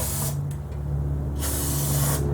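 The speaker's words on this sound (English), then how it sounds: "Got the famous O'Reilly brake parts cleaner." O'Reilly brake parts cleaner sprayed onto the intake manifold of a 1929 Chrysler: hissing aerosol bursts, first a short one, then a longer one, close and loud over an idling background hum.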